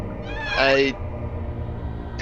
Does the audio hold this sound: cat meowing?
yes